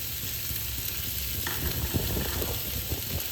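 Spice masala with a medium tomato and salt sizzles in oil in a pan for a Bengali tangra and bele fish curry, a steady close frying hiss with scraping stirs and soft clatter from about halfway, no voices.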